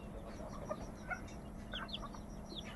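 A male Chinese silkie chicken gives soft clucks and short chirpy calls, a few brief notes scattered over a low, constant background hum, fairly faint and close.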